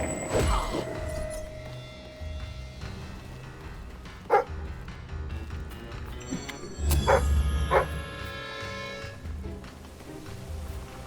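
A dog barks in the video game Fable III, giving a few sharp barks and yips at moments through a busy game scene with thuds and other effects, loud and fairly close.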